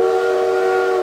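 A steady, loud video-game train whistle blows continuously as the train departs, a sustained tonal hoot with no voices.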